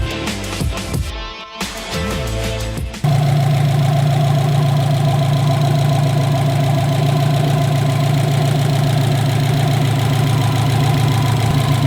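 A car engine running with a cylinder 1 misfire, first revving and cutting in and out, then settling into a loud, steady close idle with a rhythmic uneven pulsing throb and no talking.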